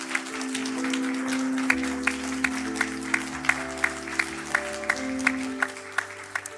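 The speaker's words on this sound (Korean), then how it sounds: "큰 박수로 축하해 주시기 바랍니다" A church congregation applauds during a Korean Baptist Sunday service, with a steady patter of clapping lasting the whole stretch. Sustained organ or keyboard chords play underneath at moderate volume.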